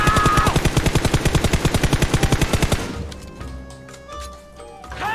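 An automatic weapon sprays a long, rapid, evenly spaced burst in a battle royale shooter game, loud and close for nearly three seconds, then gives way to quieter ambient game sounds.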